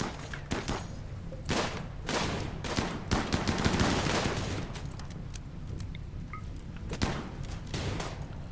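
Gunfire in the video game RimWorld during a fight with a frag grenadier: rapid bursts of sharp shots and clattering volleys, some clustered and some spaced apart, over continuous low background noise.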